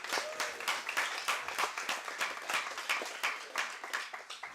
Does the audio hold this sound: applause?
yes